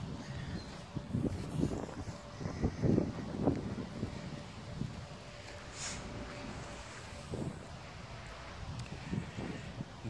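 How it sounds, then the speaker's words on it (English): Gusty wind rumbles and buffets the microphone in uneven surges, low and blustery throughout with no voices. "but it's quite windy day."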